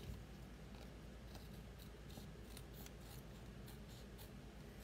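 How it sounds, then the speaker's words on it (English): Scissors trim leftover scraps of designer paper in a series of quiet, irregular crisp snips over a low steady hum, with no talking. "with my scissors."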